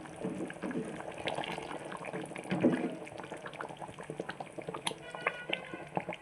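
Fish curry with garam masala stirred in a pan, a soft continuous bubbling and scraping sizzle with small clicks of the spoon, steady and close, with faint talking in the background.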